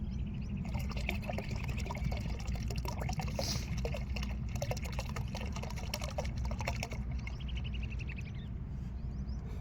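Pesticide liquid poured and mixed for crop spraying in a farm field: a continuous splashing trickle with scattered small clatters over a low rumble, close and steady.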